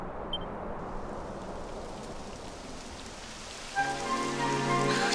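Rain begins falling in the game Dragon Quest XI S, a steady hiss of drops on surfaces growing denser, with sustained musical tones swelling in near the end.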